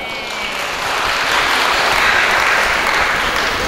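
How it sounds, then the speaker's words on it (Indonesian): An audience at a cooperative's annual members' meeting in Indramayu, Indonesia, applauds for a few seconds, the clapping dense and steady and swelling a little before holding level. "Boleh tepuk tangan Pak, Bu."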